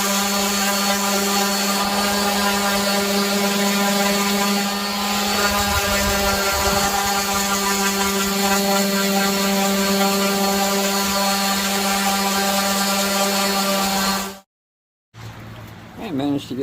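An orbital sander hums steadily and loudly while smoothing ridges off a homemade shift knob for an EF Civic sedan, running without a break before cutting off abruptly near the end.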